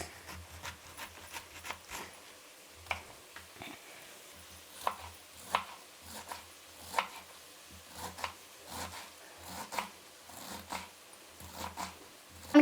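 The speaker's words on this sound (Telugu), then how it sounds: "క్యాబేజ్ అంతా కట్ చేసినామంది" A knife chops cabbage on a cutting board in a home kitchen, making a steady run of sharp, close taps with brief pauses, no voices.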